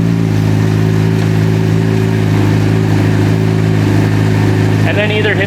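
A powersports engine on a dyno roars loudly and continuously at a steady high pitch, with a brief rising whine near the end.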